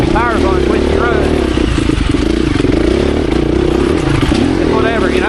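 A 2024 KTM 350 EXC-F dirt bike engine drones loud and close while riding in a straight line on knobby tires, a steady buzzing hum with wind rush throughout and someone talking over it.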